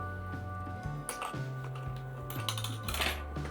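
Sharp plastic clicks and clinks sound close up as a keycap is pried off an AULA F75 Max mechanical keyboard, a few brief scattered ticks over a steady low electrical hum.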